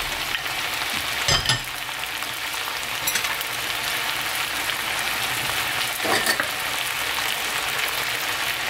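Tofu frying in a pan with soy sauce seasoning, a steady loud sizzle throughout with a few brief clatters from stirring.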